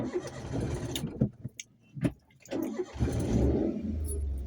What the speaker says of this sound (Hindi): देखो गाड़ी नहीं स्टार्ट हो रही है